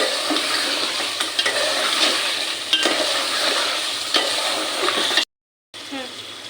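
Braising water is poured into a pan of beef curry, making a continuous close splashing hiss with a few clatters. It stops abruptly near the end, then returns more softly.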